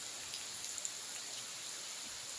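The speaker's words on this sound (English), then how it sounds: "It's only rain." Steady rain falls in Sri Lanka while the sun shines, an even, close hiss of drops on surfaces that continues without pause.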